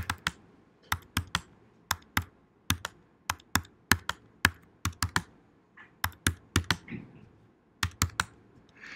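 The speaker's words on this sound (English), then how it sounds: "I can come up here and I can type in whatever." Data typed into a computer keyboard for a lab exercise: sharp, close key taps in short irregular bursts with brief pauses, alone in a quiet room.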